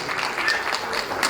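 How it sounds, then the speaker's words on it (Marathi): A crowd claps for preschool children at a school annual day, producing a steady, dense patter of many hands at moderate volume throughout the short moment. "त्यामुळे जोरदार टाळ्या येत आहे यांच्यासाठी."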